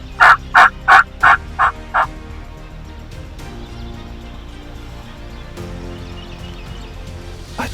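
A wild turkey gobbles loudly in a rapid burst of six throaty notes, then quiet outdoor ambience follows.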